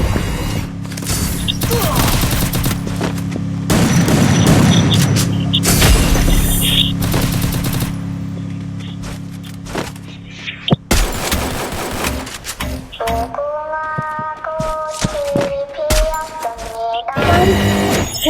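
Rapid bursts of gunfire from the Free Fire battle royale game, a ranked match, crackle through the first half, followed by game sound effects and tonal interface chimes.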